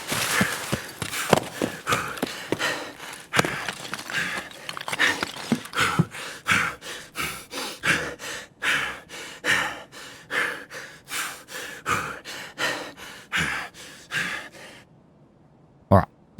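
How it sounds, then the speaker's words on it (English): Heavy, rhythmic panting breaths from a character in the Escape from Tarkov video game, a long run of loud gasping inhales and exhales close to the mic, tapering off before a final sharp breath. "Now that the heavy breathing's over, I can talk again."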